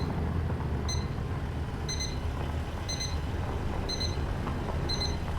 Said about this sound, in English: I don't know what that beeping sound is.